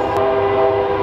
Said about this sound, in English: Ah, and here's the train.